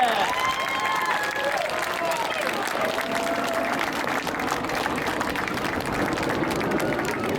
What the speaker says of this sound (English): a massive round of applause for a wonderful hawk over the skies of air